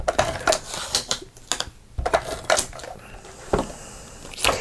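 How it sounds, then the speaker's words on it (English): Tape runner applying adhesive to card for handmade cards, a series of close, sharp clicks and short rasping strokes in uneven bursts with brief pauses between them. "Since these are nice big rectangles, I will just use my tape runner."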